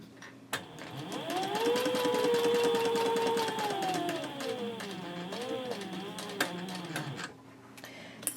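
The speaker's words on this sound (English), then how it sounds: "So we can go over to the sewing machine and sew in this side of the gusset" A sewing machine stitches the side of a handbag gusset at a stitch length of 3.0: a steady, close mechanical whir rising and easing in pitch for several seconds, with a few clicks at the start and end.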